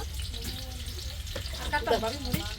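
Onions and chilies fry on a stove with a close, crackling sizzle, stirred now and then, while a voice briefly murmurs over the cooking.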